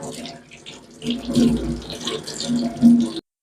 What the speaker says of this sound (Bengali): ফুটিটাকে প্রথমে ভালো করে ধুয়ে নেব।